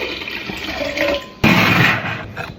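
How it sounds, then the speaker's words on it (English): Water pours and splashes steadily into a blender jar, with a sharper gush partway through that continues before tapering off. "Add a little bit of water first."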